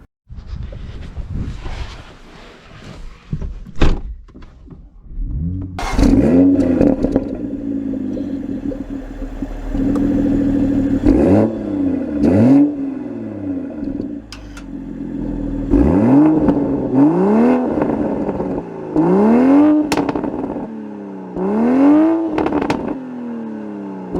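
A manual Toyota Supra sports car driving, its engine revving up through rising pitches and dropping back at each gear shift, repeated several times over loud road and cabin rumble with no voices.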